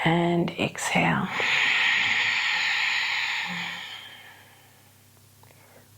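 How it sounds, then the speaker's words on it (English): A long, breathy exhale during a slow breathing exercise, a soft airy hiss that swells and then trails off over several seconds after a brief bit of close, quiet talk. "And exhale."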